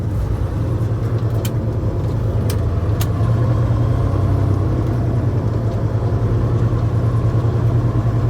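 Loaded grain truck engine pulling away slowly in first gear from a field, a steady low diesel rumble that holds close and loud with a few faint clicks, no voices.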